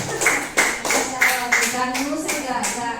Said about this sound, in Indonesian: tepuk tangannya keras